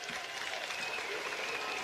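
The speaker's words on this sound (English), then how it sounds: "White Sox and Diamondbacks alike standing and applauding Marte" Baseball crowd at a White Sox versus Diamondbacks game standing and applauding Ketel Marte, a steady wash of clapping from a modest-sized crowd, fairly distant and even throughout.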